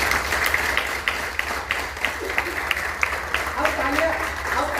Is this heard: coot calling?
no